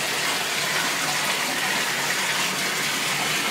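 Steady, loud rush of shower water pouring continuously while a dog is being washed, a broadband hiss with no breaks.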